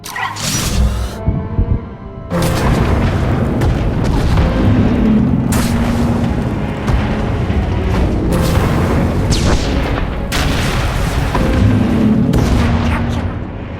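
Artillery explosions in the video game SWTOR, heavy booming blasts that rumble loud and close, with a brief quieter gap before a sustained barrage of overlapping impacts and rolling thunder.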